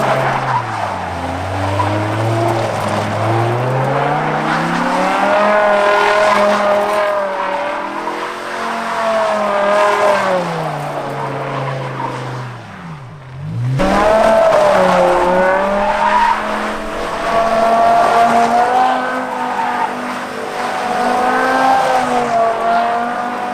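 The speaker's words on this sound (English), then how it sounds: "It does burnouts." A V10 BMW M6 doing burnouts: loud sustained tire squeal with rising and falling engine revs, a brief dip midway before the screech resumes, close and dominant.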